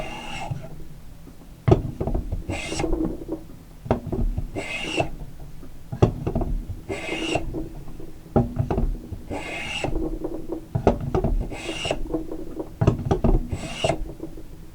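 Hand tool working a chamfer along the edge of a wooden dovetailed salt box, repeated rasping strokes in a steady rhythm, close and fairly loud with no talk.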